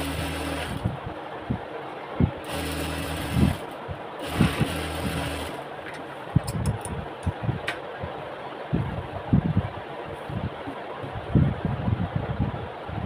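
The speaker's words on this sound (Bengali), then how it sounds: "সবগুলো একই রকম করে সেলাই দিতে হবে।" An electric sewing machine stitches a salwar, running in a few short whirring bursts, then settling into scattered clicks and handling knocks nearby.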